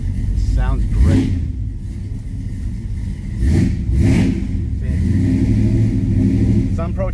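A 1969 Plymouth Roadrunner engine running at close range, a steady low rumble with a couple of revs swelling and falling, heard under a man's speech.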